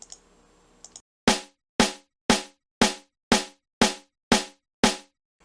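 A drum plays eight quick, evenly spaced half-beat hits in a steady row, each a sharp crisp strike with a short decay, following a brief faint noise at the start.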